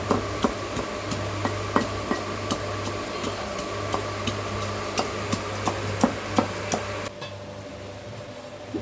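Ginger and garlic cloves pounded by hand, a steady run of sharp, regular thuds with a mortar ring, close and fairly loud, stopping near the end with no talk.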